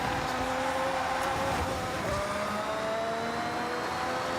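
Steady engine drone of a Lamborghini Countach in Forza Horizon 6, a continuous buzzing hum with faint pitch shifts, held at an even level throughout with no gaps.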